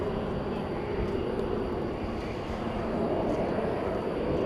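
A Turkish Airlines Airbus A350-900 departs at night at DFW Airport, its engines a steady, moderately distant roar holding evenly throughout.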